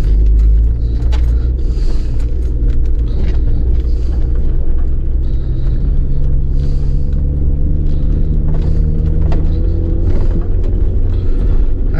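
A car drives along with a steady, loud low engine and road rumble that holds throughout, with no voices.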